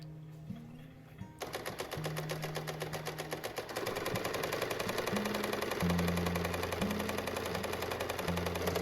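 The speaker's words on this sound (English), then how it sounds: "I can match up the side seams and sew around the pockets to finish them off." A sewing machine stitching the side seams and around the pockets of a fall dress starts up after a short quiet moment and runs in a steady, fast rattle beneath soft background music.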